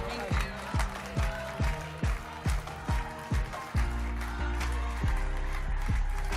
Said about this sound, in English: That's why everyone is just applauding her, because she is absolutely amazing.